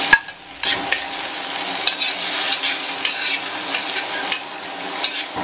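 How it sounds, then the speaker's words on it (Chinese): Squid rolls, quail eggs and soaked wood ear fungus are stir-fried in a little oil with ginger slices and scallion whites, giving a loud, steady sizzle with scraping stirs throughout, opening with a sharp clank; no talking. "稍微煸炒一下。"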